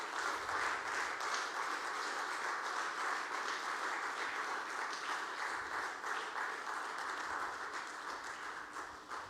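Sustained applause from a large audience honoring the Prime Minister at a political address, dense steady clapping filling the hall throughout before slowly thinning at the end.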